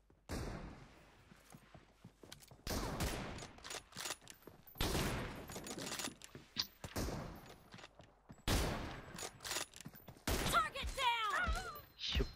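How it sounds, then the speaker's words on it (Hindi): Bursts of gunfire in PUBG Mobile or Free Fire, a pistol firing alongside other weapons, come as loud sharp cracks in several clusters across the stretch, mixed with game effects and talk. "पिस्टल की पिस्टल का एक फायर होगा"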